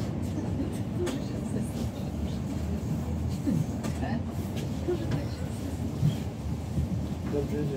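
Poznań's Christmas tram on line 24 running toward Górczyn, a steady close rumble of wheels and motor with faint clanks throughout, under occasional quiet talk on board.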